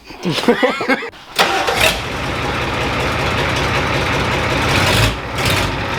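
A diesel engine cranks, fires up, and settles into a deep, loud rumbling idle through a throaty NASCAR-style exhaust close by.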